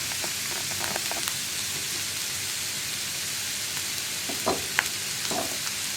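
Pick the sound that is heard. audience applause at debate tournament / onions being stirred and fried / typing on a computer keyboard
onions being stirred and fried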